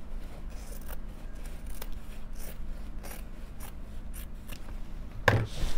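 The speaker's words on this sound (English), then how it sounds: "Using a pair of sharp scissors, trim off the fabric to about a quarter of an inch above the seam." Sharp scissors trim excess fabric above a sewn seam on a drawstring project bag, giving a soft continuous rasping snip texture close by with a louder cut near the end.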